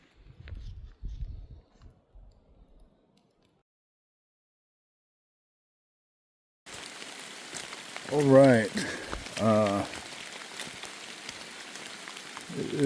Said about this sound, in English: It is going to be raining all day today.